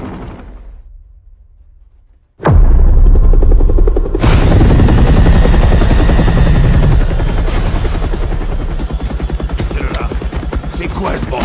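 Helicopter taking off in an action film: a quiet stretch, then a sudden loud, sustained rotor roar with a rapid chopping pulse that stays close and dense to the end.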